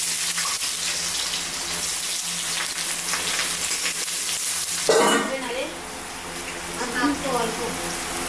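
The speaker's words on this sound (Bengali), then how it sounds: "কড়াইটা গরম হয়ে গেছে, তেল দিয়ে দেবো শাকটা ভাজার জন্য। এর মধ্যে পেঁয়াজটা দিয়ে দেবো।" Onion dropped into hot oil in a heated wok, bursting into a loud close sizzle that settles into a steady frying hiss with some stirring.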